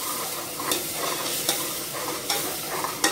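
A ground paste of onion, ginger, garlic and green chili sautés in a pan for Dindigul thalappakatti biryani, soft frying crackle with spoon strokes scraping the pan every second or so, close and without voices.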